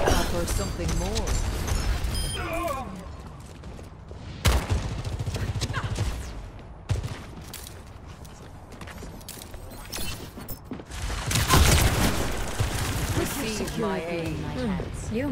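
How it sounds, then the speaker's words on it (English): Pharah's rocket barrage in Overwatch 2 erupts as a dense, rapid volley of gunfire-like blasts and mechanical clatter, loud and sustained with bursts swelling near the end, under game voices. "Rocket barrage incoming!"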